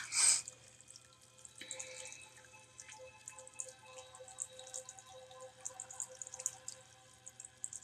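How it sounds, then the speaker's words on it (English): A small desktop water fountain trickles and drips close by, a quiet ongoing burble of splashes and droplets with occasional brighter plinks, no talk. "I do have a water fountain on my desk."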